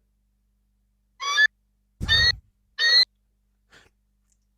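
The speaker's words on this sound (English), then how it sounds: "this calls for a new noise. We're going to try eagle." Soundboard eagle effect: three short, shrill screeching cries with rising harmonic tones, closely spaced and loud, the middle one with a low thump underneath, followed by a faint fourth trace, otherwise silent.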